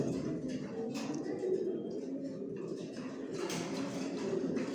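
Pigeons coo in a pigeon loft, a soft, steady low murmur of overlapping calls with occasional wing flutters and rustling nearby.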